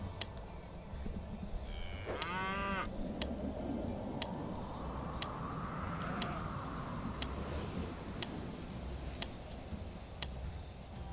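Cattle moo once in the Railway Empire video game, a single drawn-out bellow rising and falling over steady ambient game sound with regular ticking clicks.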